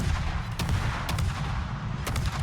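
Grozovoi Tier X destroyer guns in World of Warships fire in a quick series of sharp booms, a few salvos spaced about half a second apart over a steady low rumble of game sound.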